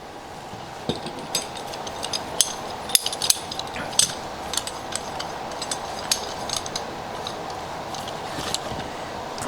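Clamp tightened on a wooden splined miter joint in a workshop, with faint metallic clinks, light taps and small ratcheting clicks scattered over quiet background noise.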